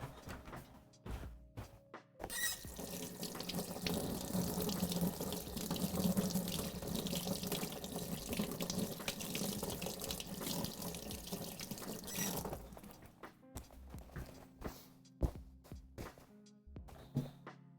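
Kitchen tap water runs steadily for about ten seconds as hands are rinsed during poke bowl prep, with a few knocks and clatters before and after the flow.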